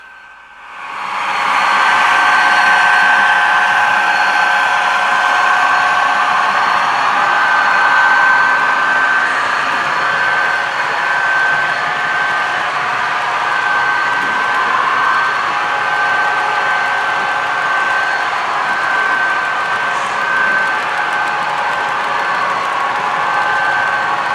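Denver and Rio Grande Western diesel locomotives, nearly 15,000 horsepower combined, work across flat terrain in Utah, with a loud, sustained engine roar and a steady droning tone that stays constant for over twenty seconds, with no voices.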